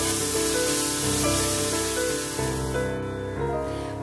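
Bacon rendering slowly in a pan, giving a steady, close, even sizzle and spatter with no voices over it.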